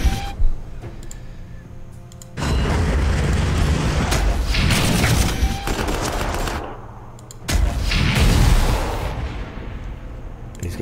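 Artillery and gunfire from units in the strategy video game Warhammer 40,000 Armageddon: heavy rumbling barrages with booms and rattling shots in two long loud bursts separated by a short lull.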